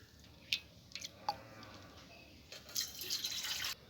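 Tomatoes, potatoes, carrots and coriander get rinsed under a kitchen tap, with soft drips and splashes at first, then a steady stream of running water near the end.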